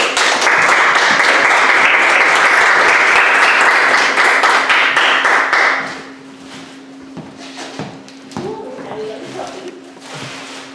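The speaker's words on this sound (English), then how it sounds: "Please, can we please give him a round of applause?" A room of listeners applauds loudly as a speaker takes the stage at a speaker event, dense clapping for about six seconds, then fading to scattered claps, a steady hum and a few voices.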